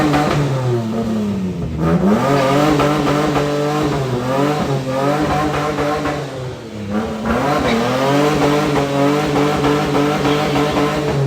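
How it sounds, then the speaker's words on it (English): A Nissan S13 skids under power, its engine revving hard and loud in rising and falling sweeps that hold steady for about eleven seconds, with no talking over it. "so as you watch this skid again"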